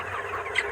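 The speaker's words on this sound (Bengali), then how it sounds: "আমার এই লটে আজ মুরগি 35 দিন, প্রায় 1900+ বড় আছে" A broiler chicken clucking briefly in a poultry farm shed holding about 1900 birds, a short close cluck over a steady background murmur.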